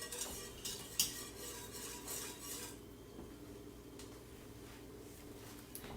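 A roux for lobster mac and cheese is stirred in a pot with quick scraping strokes that fade to a quieter, low murmur of cooking after a few seconds, close and faint, with no speech.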